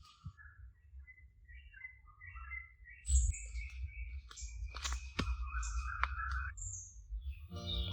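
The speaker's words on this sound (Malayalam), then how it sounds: "പക്ഷേ കുറേ കിളികളുടെ ശബ്ദം കേട്ടു." Assorted birds chirp and call in the forest of the Kumarakom bird sanctuary in Kerala, a scatter of high tweets and squawks at moderate distance over a low rumbling background.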